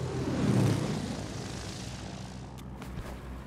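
Propeller airplane engine droning steadily in a Boonie Bears cartoon, a loud continuous hum that swells early then holds level with a few faint high whooshes near the end, no talking.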